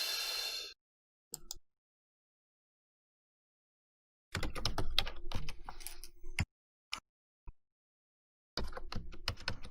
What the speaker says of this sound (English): It takes a second because I got to get the password in here.